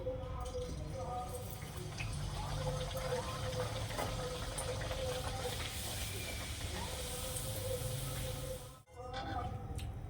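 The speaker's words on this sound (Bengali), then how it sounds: "তো এবার তেল গরম হয়ে গেছে দিয়ে দিচ্ছি" Kachori dough dropped into hot oil for deep frying, giving a steady broadband hiss and crackle that runs throughout at close range, with a brief dip near the end before the sizzle resumes.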